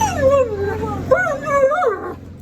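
Dogs whimper and yip close by, rising and falling whiny cries over a couple of seconds, with no talking.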